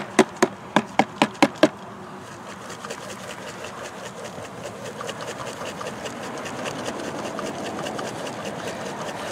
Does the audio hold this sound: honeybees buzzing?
yes